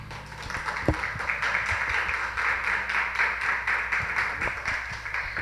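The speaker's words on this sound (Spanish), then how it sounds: "Denle un fuerte aplauso a Dios por eso" A church congregation applauds at a worship service, a fairly faint, steady patter of many clapping hands that lasts the whole stretch, with no talk over it.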